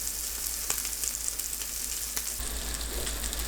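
Egg batter with paprika and sea lettuce sizzles steadily in a pan over medium-low heat, a close, continuous frying crackle with no talk.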